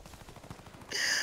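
Gunshots in the shooter game Warface, a quick string of sharp pistol-like cracks followed by a brighter hissing burst near the end, fairly close and punchy.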